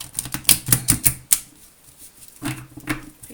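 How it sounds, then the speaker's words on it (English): Tarot cards being shuffled in a quiet room: a quick run of crisp riffling snaps and taps, then a pause and a few softer card flicks, close and alone. "One more shuffle."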